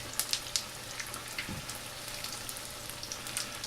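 Turkey pieces frying in oil, a steady crackling sizzle with scattered sharp pops and spits, close and fairly quiet, with no talking.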